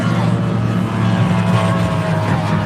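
A 175-horsepower Yamaha outboard engine drives a racing speedboat, a loud, steady droning roar held close throughout with no break, while a commentator's voice talks over it.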